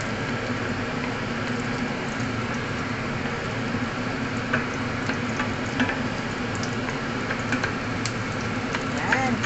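Pork adobo with eggs cooks in a pan with a steady, dense sizzle, stirred along with faint scrapes, while a voice talks intermittently over the cooking.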